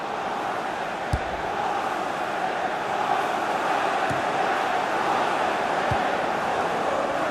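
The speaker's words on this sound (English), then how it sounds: "Oh, the crowd were up on their feet there." Stadium crowd noise in the FIFA 18 video game, a steady broad roar with a few brief thumps, rising slightly as fans get up on their feet after a shot flies over the bar.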